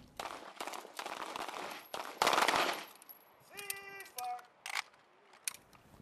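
Gunfire at a pistol and shotgun qualification range comes as a string of sharp, fairly close shots in clusters, with a few thin electronic tones between them.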